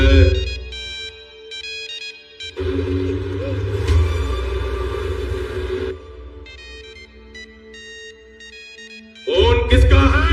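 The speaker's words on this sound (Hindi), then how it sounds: "फोन किसका है?" A mobile phone ringtone plays a repeating electronic melody, loud and close, with a pause in the middle and a brief burst of voices near the end.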